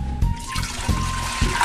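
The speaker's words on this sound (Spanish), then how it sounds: "Ahora vamos a poner a hervir nuestros nopales" About a litre of water pours and splashes into a pot to boil nopales in a home kitchen, with a steady close stream and a few soft knocks.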